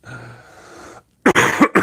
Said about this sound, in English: Sorry, I keep coughing as well.